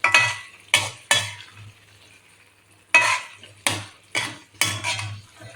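A spoon stirring ghee chicken roast with curry leaves in a pan, sharp metallic scrapes and clinks in irregular bursts, close and loud, with faint sizzling between them.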